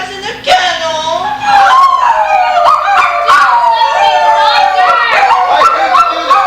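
Stage actors in a high school theatre production voice dogs, with overlapping whimpers, yips and drawn-out howls that rise and fall over several seconds, loud and close, imitating a pack of distressed dogs.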